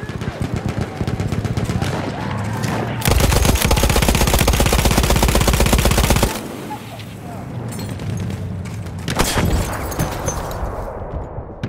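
A Lewis gun fires long, rapid automatic bursts in a war video game set on the Volga river. The shots are loud and close, with a dense sustained stretch in the middle and more scattered gunfire and battle noise around it.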